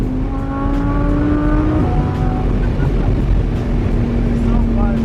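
Nissan GT-R engine driving on the road, a steady loud drone with harmonic engine tones that shift in pitch partway through, rising again toward the end, while people talk in the cabin.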